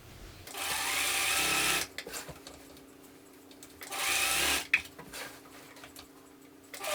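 A sewing machine stitches a quillo in two quick whirring bursts with a quiet pause between them, close and clear, followed by a soft click.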